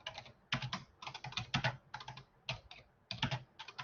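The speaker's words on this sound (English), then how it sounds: "typing is hard." Typing on a computer keyboard, with quick bursts of key clicks separated by short pauses, close and fairly quiet, and no voices.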